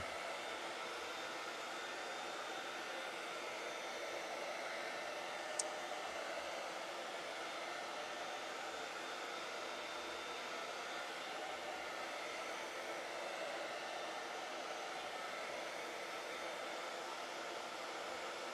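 A hair dryer blows continuously and evenly at close range, drying chalk paste on a stencil transfer, a steady airy hiss with no talk.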